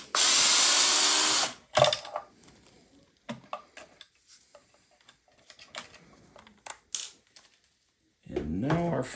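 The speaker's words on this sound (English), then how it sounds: "so my drill might not work here." A cordless power drill spins out screws from a large onn. Bluetooth speaker, a loud whirring run at the start, then scattered clicks and handling taps before a second short drill burst near the end.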